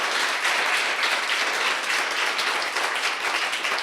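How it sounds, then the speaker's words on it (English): Audience applause after a business pitch challenge in Denver, a dense steady wash of many hands clapping at moderate loudness, continuous without pause and no voices standing out. "Let's give everybody a round of applause for a tremendous job."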